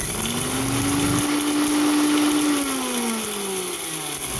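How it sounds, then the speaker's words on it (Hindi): A mixer grinder jar grinds roasted dry spices into a coarse powder, a loud continuous whir close by whose pitch rises and then slides down as the motor slows, with no voices. "तो यहाँ पर मैंने इसे इस मिक्सर जार में पीस लिया है।"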